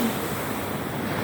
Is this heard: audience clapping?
no